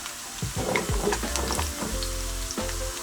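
Shrimp hitting hot olive oil in a pot with a loud, steady sizzle and crackle, with a few utensil knocks and scrapes early on.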